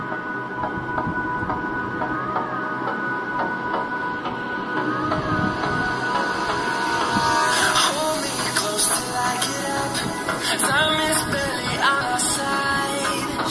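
Xiaomi Mi A1 smartphone's single speaker playing video audio: continuous tonal, busy sound heard from close by that grows a little louder and denser partway through, with no talking.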